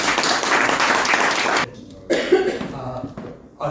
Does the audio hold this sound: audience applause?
yes